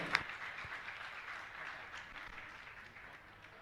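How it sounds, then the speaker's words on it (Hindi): Steady applause from a crowd, a broad wash of clapping that holds evenly and slowly tapers off, with no voices over it. "जोरदार ताली बजाकर उनका सम्मान करें"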